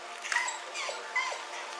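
A police tracking dog whimpers during a search, giving a few thin, high whines close by over a quiet background.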